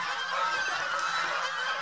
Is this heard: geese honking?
yes